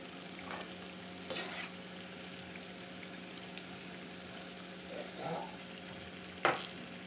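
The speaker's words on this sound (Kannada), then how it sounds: "ಮೊದಲಿಗೆ ಹಾಕಿದ ವಡ ನೋಡಿ ಈಗ ಕಾಯ್ತಾ ಬಂತು." Vada frying in oil, a soft continuous sizzle with occasional stirring clinks and scrapes of a utensil, including one sharp knock near the end.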